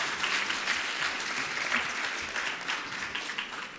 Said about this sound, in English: please let us give a round of applause to our Board of Trustee Principal Officer for a job well done